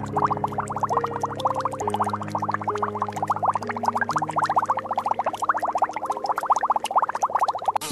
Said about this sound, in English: Spiny seahorse.